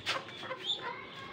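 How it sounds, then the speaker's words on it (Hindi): A neighbours' hen in a backyard gives a few short, soft clucks and squawks, close and moderately quiet, with no talk over them. "ये हमारे हमसायों की मुर्गी आ गई है यहाँ"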